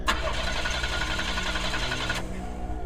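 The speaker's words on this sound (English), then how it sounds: "I tried to start the engine again and again" A car engine runs continuously and fairly loudly, a steady mid-pitched mechanical drone that cuts out abruptly near the end, with no voices.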